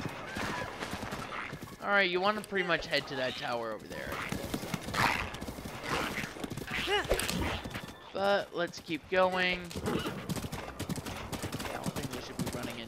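Horse hooves gallop steadily through an open-world fantasy game, a rhythmic clip-clop running under near, continuous commentary from a player who talks over most of the ride.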